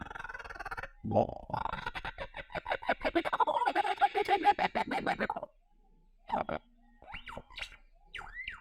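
A bird gives a run of rapid, chattering hoots and whoops in imitation of a monkey call, followed by a pause and a few shorter squeaky calls.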